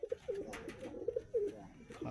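Pigeons in a breeding loft squabble over cages and perches, giving close, repeated coos and throaty calls with some wing and scuffling noise in between.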